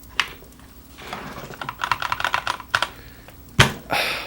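Someone types on a PC computer keyboard nearby in quick, uneven bursts of clicking, with a louder clack near the end and no talking.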